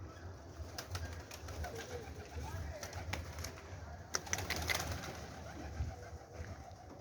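Pigeons coo softly and repeatedly in a quiet loft, close but low in level, with someone talking now and then over the birds.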